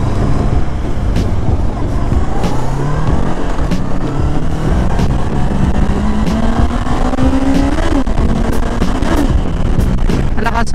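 A Bristol Venturi 500 motorcycle engine on a test ride, loud and close, rumbling and revving as it climbs through rising pitches with gear changes, continuous over the whole stretch.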